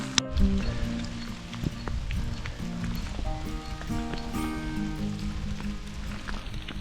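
Rain patters steadily on surfaces along a mountain trek track to Roopkund, a dense, continuous spatter mixed with footsteps and scattered knocks, fairly close and even in level.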